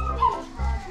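A dog gives a couple of short, soft whimpering yips at a wedding gathering in Delhi, India, close by with a faint voice in the background.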